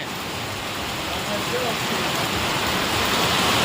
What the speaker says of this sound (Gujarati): અમારા ગામમાં વરસાદ પડે